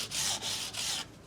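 Polishing the ends of a Yamaha guitar with a microfiber pad: three close, breathy rubbing strokes in quick succession, a soft hissing scrub with no talk.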